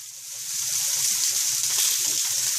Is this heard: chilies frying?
yes